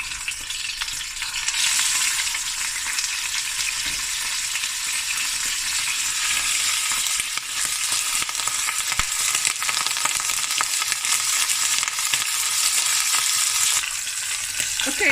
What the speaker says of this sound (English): I've browned the meat nicely, the lamb shanks.